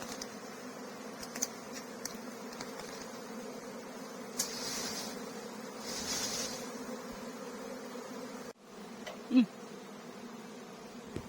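A large honey bee swarm buzzing steadily at low volume throughout, a continuous drone with brief louder swells. A sharp knock cuts in near the end, followed by a short loud burst.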